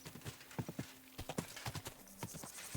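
A horse gallops in the video game Kingdom Come: Deliverance II, with a quick, uneven run of hoof clip-clops, fairly faint and steady, over a low background hum.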